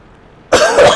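One loud, sudden cough bursts out close to the microphone after a near-silent moment, a harsh double-pulsed hack.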